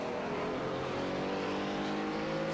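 Pagani race car accelerating hard on a track day in Project CARS, its engine a loud, steady high-pitched whine with rising harmonics, continuous throughout without speech.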